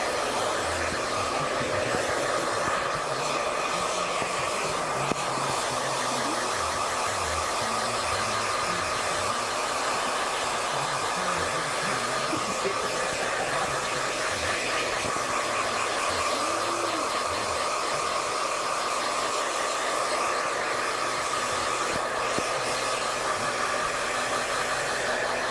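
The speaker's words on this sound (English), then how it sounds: "blow drying the hair so that it can stay in place" A hair dryer blow-drying a client's hair at a barbershop, a steady, continuous loud whoosh with a constant motor hum running unbroken throughout, with no talking.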